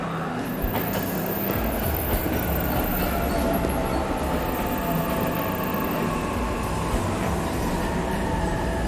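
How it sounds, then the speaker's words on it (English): A train pulls into a station in the video game 13 Sentinels: Aegis Rim, producing a steady, loud rumbling roar with faint high squeals that fills the whole stretch without letup. "The train's already here."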